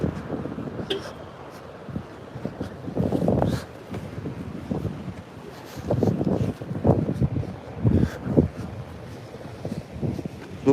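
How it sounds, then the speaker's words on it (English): Wind gusts blow across an open shoreline at low tide, rumbling and buffeting a nearby microphone in uneven surges that rise and fall throughout, with no talk over it. "Okay, the wind's up a little bit."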